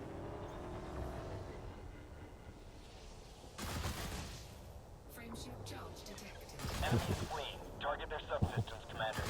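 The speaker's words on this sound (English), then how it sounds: "this Gauss cannon does some serious damage" Heavy Gauss cannon fire hitting an Imperial Clipper in a space combat game, coming as booming bursts over a steady engine drone, with louder, denser impacts toward the end and a voice talking along.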